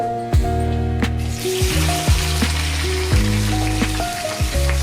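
Onions fry in hot oil in a pan on a stove, a dense, loud, continuous sizzle that crackles steadily from close by with no talking.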